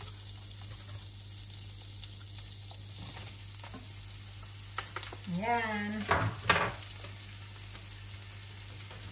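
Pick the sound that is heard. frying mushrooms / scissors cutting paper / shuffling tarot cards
frying mushrooms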